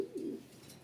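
Racing pigeons resting after a training flight give a low, soft coo, a single short burst heard nearby against a quiet background.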